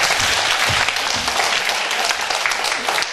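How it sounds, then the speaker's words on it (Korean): A church congregation at a winter revival service breaks into dense, sustained applause, loud and continuous throughout with faint voices mixed in. "하나님께 영광 박수 드려요"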